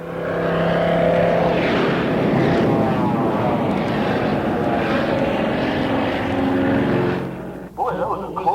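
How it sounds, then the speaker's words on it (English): A Boeing 747 airliner roars past close to another aircraft in flight. Its engines give a loud, sustained rushing drone that fades abruptly near the end. "The sound you just heard was a Boeing 747 flying directly across our starboard side."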